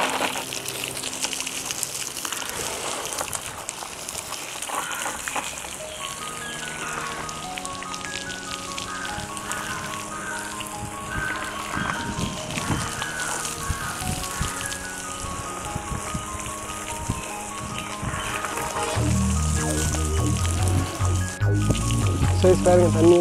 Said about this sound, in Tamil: ஸோ வாங்க தண்ணி ஊற்றுறோம்.